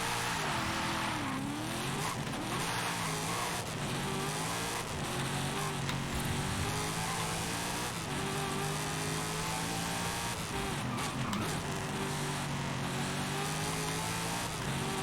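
The supercharged V8 of a 2009 Chevrolet Corvette ZR1 driving a race circuit in Forza Horizon 5 roars steadily and loudly throughout, its pitch climbing and dropping through gear changes, with no talking.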